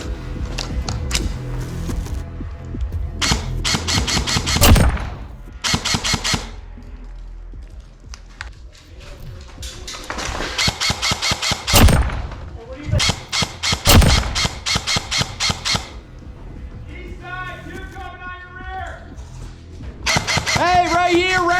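Airsoft LMG at a milsim event firing repeated rapid bursts, loud and close, with shouted voices between the volleys and intermittent squealing noises.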